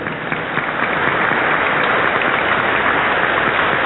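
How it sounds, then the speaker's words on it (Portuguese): Sustained audience applause at a graduation and degree-conferral ceremony of a philosophy faculty, a dense, steady wash of many hands clapping at even loudness throughout with no talk. "Uma salva de palmas."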